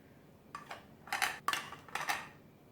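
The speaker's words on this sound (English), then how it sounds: "Make sure the foam is incorporated into the tea. Just keep on stirring." A spoon clinks and scrapes against a mug while stirring foam into a pumpkin chai tea latte, about five quiet ringing strokes in an uneven rhythm, close and alone.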